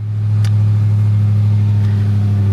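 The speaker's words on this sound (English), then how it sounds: "usually shouldn't rev an engine cold" A Dodge Charger Hellcat Redeye engine, converted from a V6, revving cold: a loud, steady, close low rumble holding at high revs, with no talk.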